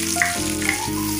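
Onions dropped into hot oil for aloo gosht, giving a brief close crackling sizzle with a steady hiss, no talk.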